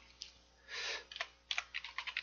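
Typing on a computer keyboard, close and quiet: a brief run of soft key clicks, a short rustle, then a quick series of distinct taps.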